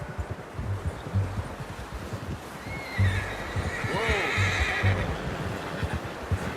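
A horse whinnies with a rising, wavering call amid steady hoofbeats and outdoor ambience in the video game Red Dead Redemption 2, while a voice shouts briefly.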